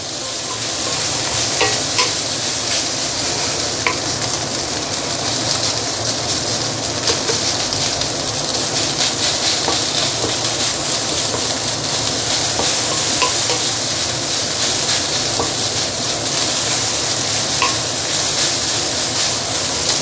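Five spice pork fried rice stir-fried in a stainless steel wok: a loud, steady sizzle runs throughout, dotted with scraping and clinking from the spatula against the metal, with no talking.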